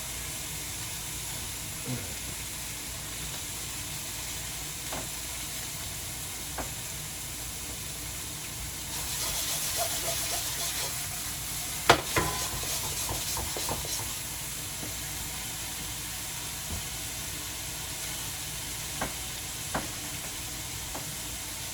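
Garlic butter sizzles softly in a pan with mushrooms, a faint steady hiss that swells for a few seconds midway, broken by occasional sharp clinks and taps.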